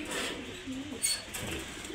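Pigeons coo softly nearby, a few low, rolling warbling calls over a quiet background.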